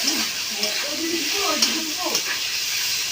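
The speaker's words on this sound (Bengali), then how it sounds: "এই যে আলু কষিয়ে নিয়েছি, এখন জল দিয়ে দেবো।" Potatoes fry and get stirred in a hot pan for a soybean and potato curry, with a steady loud sizzle running throughout, occasional scraping strokes, and a faint voice in the background.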